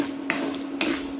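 White urad dal roasting dry in a pan, with two soft scraping stirs about half a second apart over a steady low background hum; quiet and close, no voices.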